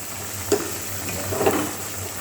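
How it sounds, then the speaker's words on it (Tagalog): Ingredients for dal soup are sautéed in a pan, giving a soft steady sizzle broken by two brief spoon-stirring scrapes, quiet and close. "Tuloy lang natin yung gisa-gisa natin dito sa ating eh, ihalo natin dito sa dami."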